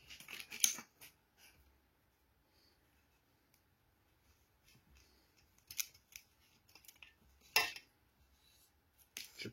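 Scissors snipping hollow elastic in a quiet room: a few sharp, close metallic cuts spaced irregularly, separated by near silence and faint handling noise.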